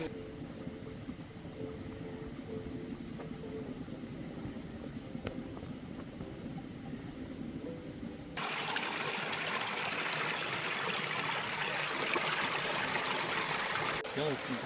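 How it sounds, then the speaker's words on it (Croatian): Spring water bubbling up out of the ground and feeding a small stream, a continuous close trickling rush that turns brighter and louder partway through, with someone talking quietly over it. "Mnogo ovih izvora koji izlaze ovako, evo vidite, čisto iz zemlje i napajaju ovaj potok ili rečicu"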